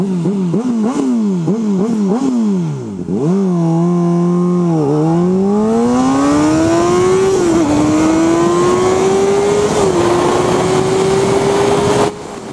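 A 600cc motorcycle on a 0 to 60 run in Ohio countryside, loud and close, revving hard through several quick rising gear pulls, then a long climbing whine as it accelerates through higher gears.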